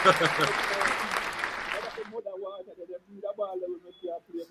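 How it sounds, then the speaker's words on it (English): A short burst of crowd clapping and cheering fills the first two seconds, then cuts to speech. Voices talk over sparse background sound for the remainder. "Make a crowd clap here."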